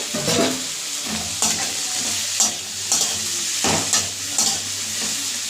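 Tomatoes added to potatoes frying in a pan for a spiced dal, a loud steady sizzle punctuated by rhythmic scraping stirs roughly every second.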